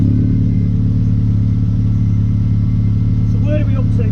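Drag race car engine at Santa Pod running through a heat cycle to clear water from the exhaust, a loud steady pulsing rumble throughout with brief voices near the end.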